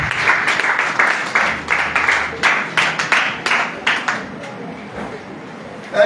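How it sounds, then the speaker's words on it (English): A church congregation claps in bursts, each round rising and fading across several seconds, with a voice calling out faintly between rounds and a brief loud sound near the end. "Clap Jesus."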